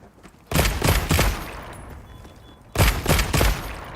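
Bursts of rapid gunfire from a weapon that fires three shots per click in Monster Hunter, two close, loud volleys separated by a quieter pause with faint background game sound.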